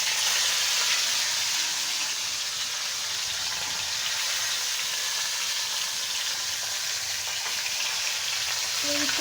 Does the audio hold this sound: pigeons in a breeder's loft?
no